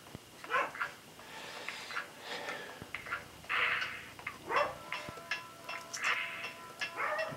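A dog barks in bursts somewhere in the house, reacting to something outside, its repeated yaps mixed over steady background sound from a room of vintage computers.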